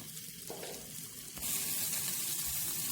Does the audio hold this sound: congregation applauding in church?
no